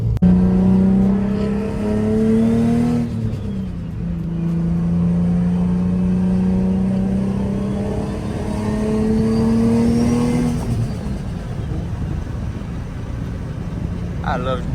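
A built turbocharged Nissan 350Z making 700 wheel horsepower, heard from inside while being driven daily: a loud engine drone climbs in pitch, dips briefly at a gear change, climbs again, then drops off as the throttle lifts.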